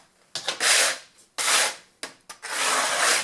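Scraping old glue off a trailer side door, three rough rasping strokes with short pauses between, close and fairly loud, with no talking.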